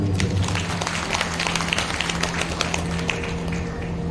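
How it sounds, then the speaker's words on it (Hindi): Audience clapping at a seven-day Shrimad Bhagavat Katha recitation in Mayur Vihar Phase 2: steady, moderately loud hand claps run through the whole stretch over a constant low electrical hum. "जरा जोरदार तालियां"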